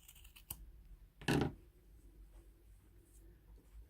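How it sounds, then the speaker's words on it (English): Scissors snip once through needle-felted wool, a short crisp cut close by in a quiet room, preceded by a faint click. "I'm going to pull it out and I'm just going to cut some of that out"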